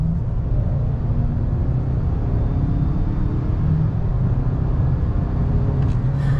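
A 2022 Ford Maverick XLT with a 2.0-litre engine and AWD, accelerating in normal mode, heard from inside as a loud, steady low engine and road rumble with no talking.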